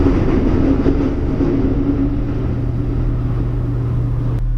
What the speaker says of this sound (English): Hold on, that's the train.